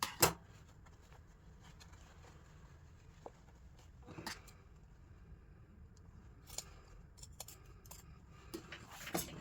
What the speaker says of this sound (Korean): 여기도 시접을 10개 잘라 주십니다.